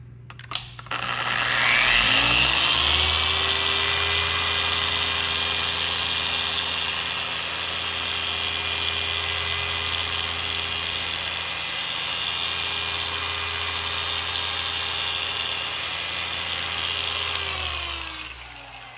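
A rotary polisher whirs up to speed and buffs piano black trim on a Tesla Model S, a steady loud motor whine holding for about fifteen seconds before it spins down.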